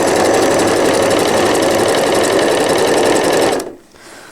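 A sewing machine runs fast and steady, stitching a cloth diaper cover with gussets, loud and close with a buzzing needle rhythm, then stops abruptly near the end.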